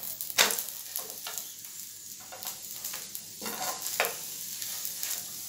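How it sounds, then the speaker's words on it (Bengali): Date and cashew stuffed pancake frying in a pan over a low flame, a soft steady sizzle broken by several short, sharp spatula scrapes and stirs at uneven intervals. "এই পিটটাও আমি ভেজে নেব লো ফ্লেমে।"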